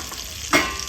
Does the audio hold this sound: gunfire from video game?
no